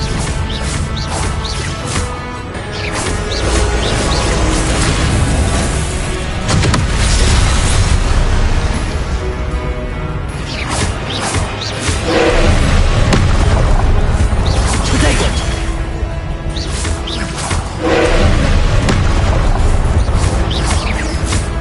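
Confringo fire spells burst again and again in Hogwarts Legacy on PS5, a loud, sustained run of booming explosions and crashing impacts that swell and ease in waves.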